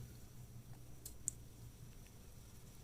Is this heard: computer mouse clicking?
yes